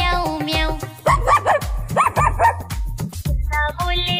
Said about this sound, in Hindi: कुत्ता बोले भौं भौं